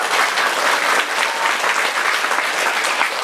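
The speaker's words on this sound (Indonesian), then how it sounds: "Tepuk tangan untuk adik-adik dari Akademi Negeri Pancasila yang luar biasa." A school assembly crowd at a junior high in Bekasi applauds student performers, giving loud, continuous, close-sounding clapping throughout with no pauses.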